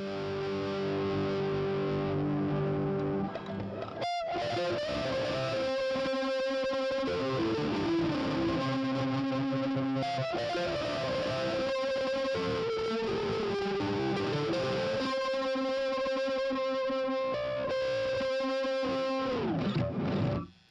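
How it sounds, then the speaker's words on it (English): Electric guitar through reverb with amp-model overdrive added, giving a gritty, lo-fi wash; loud sustained chords and melodic lines ringing with distorted, smeared tails, played alone without any talking. "added overdrive to the reverb, we could get a more gritty, more gnarly, like lo-fi sounding reverb"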